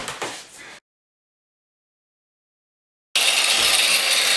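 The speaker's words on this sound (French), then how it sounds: "je peux venir à la meuleuse retoucher un petit peu éventuellement" Angle grinder trimming a light-switch cutout in ceramic wall tile: a short burst of grinding, then a pause of silence, then a loud, steady, harsh cutting roar resumes close by.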